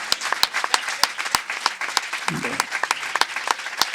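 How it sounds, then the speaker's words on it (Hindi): Audience applause at a church service, a lively stream of claps with distinct sharp individual hand strikes standing out from the crowd, and a brief voice breaking in midway. "जितना खुदा बाप से प्यार करते हैं जोरदार तालियां"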